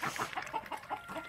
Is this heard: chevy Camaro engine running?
no